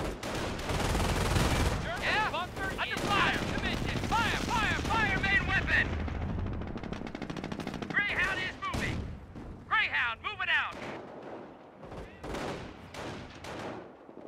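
Company of Heroes battle gunfire, dense bursts of rifle and machine-gun fire with booming impacts through most of the stretch, loud and continuous, with voices calling out over the combat.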